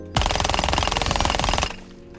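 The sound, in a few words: automatic gunfire in Rainbow Six Siege video game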